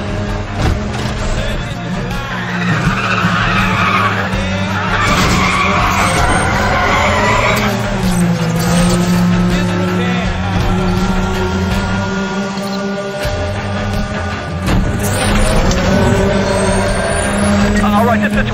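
Street race cars in Need for Speed The Run roar on a continuous, loud engine bed with repeated tire skids and squeals, while voices chatter over the action throughout.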